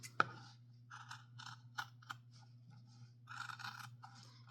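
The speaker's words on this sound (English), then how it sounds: "oh my God, I'm cutting a pair of jeans" Scissors cut through several stacked layers of denim jeans, giving a run of close, dry crunching snips in short bursts with pauses between, fairly faint over a steady low hum.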